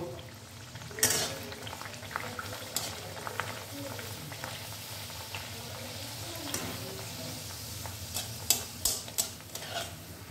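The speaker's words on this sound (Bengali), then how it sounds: "আমি এবার এগুলো ভেজে তুলব।" Moong dal kachori fry in hot oil with a faint, soft bubbling sizzle, broken by a few sharp clicks and utensil taps toward the end.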